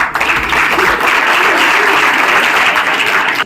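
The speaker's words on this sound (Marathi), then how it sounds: "तिच्या नावाने जोरदार टाळ्या" Loud, sustained applause from a large audience greets a girl whose name is announced at an event, a thick wall of clapping that holds steady for over three seconds before cutting off.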